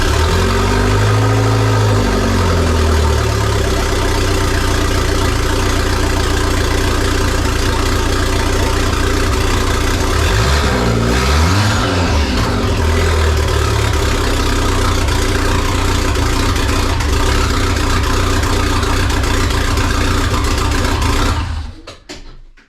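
A swapped-in 1.8T AEB engine with ME7 management, fitted to a cabrio, runs loud and close after starting, idling roughly with a couple of rising-and-falling revs before cutting off abruptly at the end.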